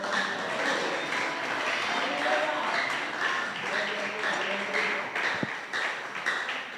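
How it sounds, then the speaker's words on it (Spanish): A church congregation applauds together, a steady wash of clapping filling the room with a few voices calling out over it, continuing throughout. "Dele un aplauso al Señor"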